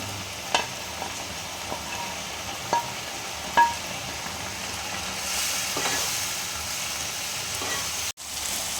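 Soya chunks dropped into a hot pan and frying, a constant close sizzle punctuated by several sharp spatula taps and scrapes, with a brief dropout near the end.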